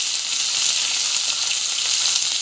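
Mustard seeds and raw mango pieces fry in hot oil for sambar, giving a loud, steady, dense sizzle with a fine crackle that runs unbroken throughout, with no voices.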